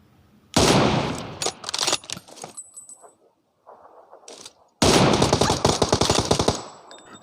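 Gunfire in the mobile battle royale game BGMI: loud bursts of rapid automatic shots, a quieter lull with scattered distant pops, then a long dense automatic burst near the listener.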